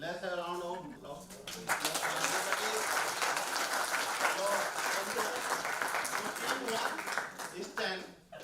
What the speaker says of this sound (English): Now let's have a round of applause